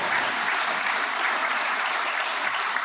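An audience at a women's keynote event claps for the sponsors, a steady, even wash of applause from a large crowd throughout.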